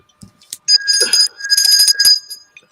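A hotel-style desk bell rings in a few bright, metallic dings, close and loud, with short glassy clinks between strikes and no talking.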